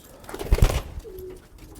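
A soft, low coo from a flock pigeon close by, a brief murmuring call over quiet outdoor background noise.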